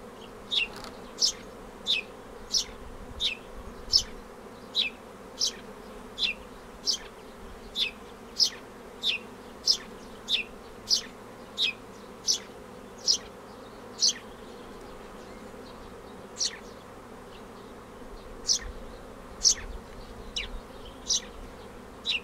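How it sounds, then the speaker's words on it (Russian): Honeybees streaming out of an apiary toward a forest in a mass flight, individual bees buzzing close past one after another in a steady series of brief whines over a low, continuous hum of the swarm. "Массовый лед пчел. Летят с пасеки в сторону леса."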